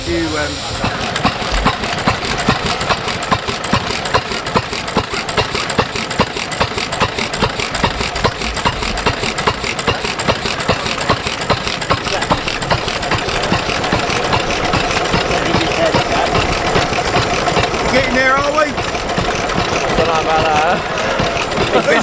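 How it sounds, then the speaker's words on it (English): A vintage engine at a tractor show runs steadily throughout with a rapid, even rhythmic chugging and hiss, while voices talk over it. "Lovely engine, isn't it, eh?"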